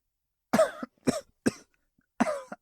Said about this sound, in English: I heard coughing on the other end.